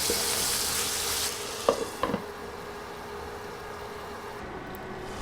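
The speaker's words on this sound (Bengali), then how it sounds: "এবার নেড়ে তেল মশলায় পিসগুলো মিশিয়ে দিচ্ছি" Meat pieces frying in oil and spices as they are stirred in a pan, a steady hiss with a couple of brief scrapes or knocks at about two seconds, then quieter sizzling, no speech.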